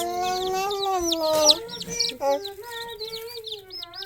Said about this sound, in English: So now we have our chicks in our nesting box.